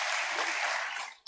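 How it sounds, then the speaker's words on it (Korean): Church congregation clapping together, a dense close wash of applause that fades and breaks off abruptly after about a second. "박수로 한번 축복해 주세요"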